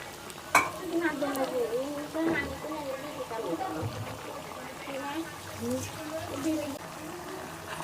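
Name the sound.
fish and potatoes frying in pan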